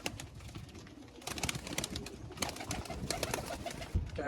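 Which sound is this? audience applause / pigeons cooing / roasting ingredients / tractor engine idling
pigeons cooing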